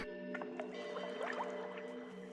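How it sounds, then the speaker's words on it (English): A small water splash in a dark cave in a video game: faint, soft liquid drips and a light slosh over a steady humming ambient music bed. "There's a small splash not too far away from you."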